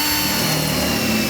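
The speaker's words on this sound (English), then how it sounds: "we will make a pilot hole with a drill" A power drill bores a pilot hole in a 2016 vehicle before a hole saw is used to fit a 7-pole RV-style trailer connector socket, giving a steady close whirring motor hum throughout.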